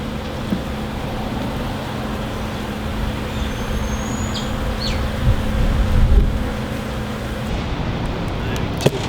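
Honeybees buzz steadily in an open hive during a pre-winter check, a dense, continuous hum close by with a few faint thumps from handling frames and a voice talking over it.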